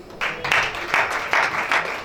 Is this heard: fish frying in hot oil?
no